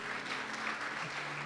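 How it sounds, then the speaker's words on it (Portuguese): Church congregation applauding together during a service, a steady wash of clapping hands with no pauses across the short stretch. "Vamos aplaudir a Ele por essa graça."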